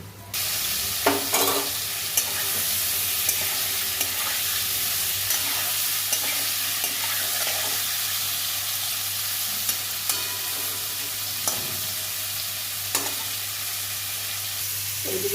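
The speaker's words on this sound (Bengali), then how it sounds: "তেল দিচ্ছি এঁচড়টা হলুদ দিয়ে সেদ্ধ করে নিয়েছি ভেজে নেব" Boiled jackfruit coated in turmeric frying in hot oil, a steady bright sizzle running throughout with occasional scraping stirs and light clinks of a spatula against the pan.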